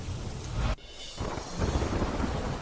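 Heavy monsoon rain pours down in Uttarakhand with a deep thunder rumble, a loud, dense hiss of rainfall that briefly dips before surging back steadily.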